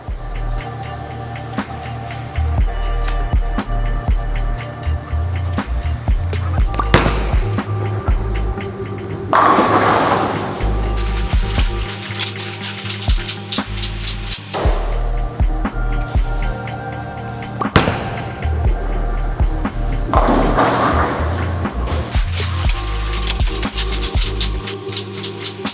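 Bowling balls roll down a lane and crash into pins on back-to-back shots of a Storm The Road, 900 Global Xponent Pearl and Roto Grip Duo, a sustained rumble of rolls with repeated loud pin impacts, no talking.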